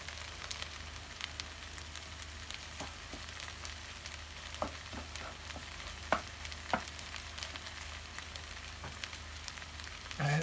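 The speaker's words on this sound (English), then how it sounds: "So what we're going to start doing now is just making a scrambled egg just in the centre well." Whisked egg scrambling in a wok for Singapore noodles: a continuous low sizzle with scattered clicks and scrapes of a utensil stirring, fairly quiet and without speech.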